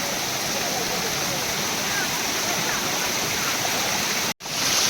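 A forest stream along the Bhimashankar trek rushes steadily close by, a constant loud wash of water that cuts off abruptly for an instant near the end.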